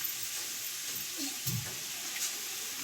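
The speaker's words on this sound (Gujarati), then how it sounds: "1 ચમચો પાણી રેડવામાં" A spoonful of water hits a hot pan and sets off a steady, close sizzling hiss that holds evenly throughout, with a few faint knocks of a utensil.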